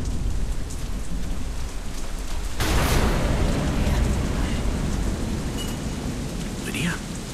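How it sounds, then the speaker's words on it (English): A storm in the game Deadlight: steady heavy rain pours throughout, and a loud thunderclap breaks in partway and rumbles off beneath the downpour. "Storm."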